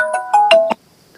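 A short electronic phone ringtone plays a few quick melodic beeps, loud and close, then stops.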